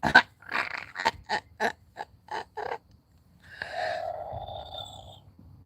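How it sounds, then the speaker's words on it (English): A man snores: a rhythmic series of short snorting breaths, then a longer, drawn-out rumbling snore, fairly close and moderately loud. "That's how he sounds when he snores."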